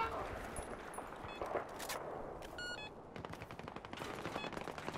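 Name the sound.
gunfire from a newly used gun in Battlefield 4 video game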